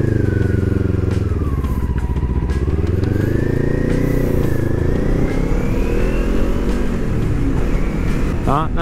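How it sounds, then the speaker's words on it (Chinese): A Kawasaki Ninja 400 motorcycle engine runs loud and close, its note rising and falling through several revs of the throttle, rough and steady throughout, with a brief sharper rise at the very end. "咱们先回个转"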